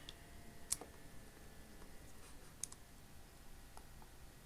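Computer mouse clicks in a quiet room, a few sharp isolated clicks spaced irregularly, with a crisp double click near the start and another pair midway, faint and close.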